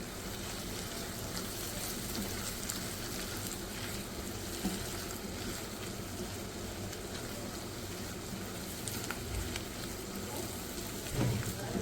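Egg curry masala with kasuri methi sautéing in a pan, a steady fizzing crackle of frying that runs evenly throughout, with no voices.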